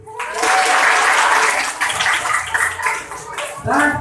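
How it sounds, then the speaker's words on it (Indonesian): Classroom applause from students breaks out at once, a dense clatter of clapping that holds steady for a few seconds, thins a little and swells again near the end, with no talking over it. "Nah, tepuk tangan dulu."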